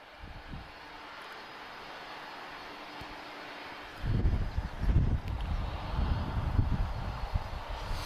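Euro Atlantic Boeing 767-300 engines at Lisbon Airport: a faint distant roar that swells abruptly into a louder, rumbling jet-engine noise partway through, buffeted by wind.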